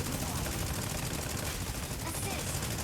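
Rapid gunfire from a mech combat video game, a dense continuous burst of shots filling the whole stretch at steady loudness, with a speaking voice faintly mixed in.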